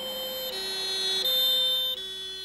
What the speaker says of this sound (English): the ambulance arrives on the scene and prepares the victim's evacuation